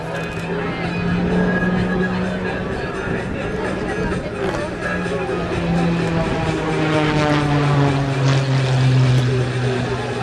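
A Rob Holland aerobatic propeller airplane at the 2017 Gulf Coast Salute air show flies a flat spin on final, its engine a loud, steady drone with wavering pitch, while crowd babble murmurs underneath throughout.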